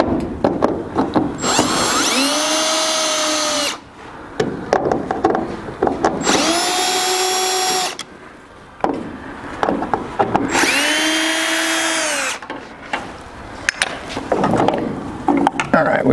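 A power drill on a 1973-87 Chevy truck spins out the screws holding the original taillight lenses, in three long whirring bursts with short pauses and handling clatter between them, close and loud.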